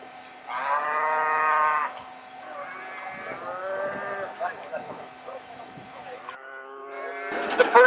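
Cattle low repeatedly as a herd is driven down a road toward a canyon, several loud moos close by with overlapping calls, while a person's voice shouts over the herd near the end.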